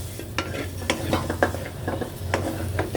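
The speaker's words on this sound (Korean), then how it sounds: "고기도 바싹 볶아줍니다" Pork stir-fries in a pot for kimchi stew. A loud sizzle runs throughout, and a utensil scrapes and clinks against the pot again and again as the meat is stirred close up.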